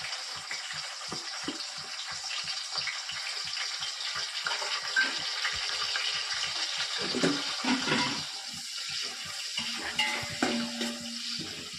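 Onions frying in oil with bay leaf, cardamom, cinnamon and cloves for chicken biryani, a soft continuous sizzle with regular scraping stirs and a few pan clinks, close and fairly quiet, without talking.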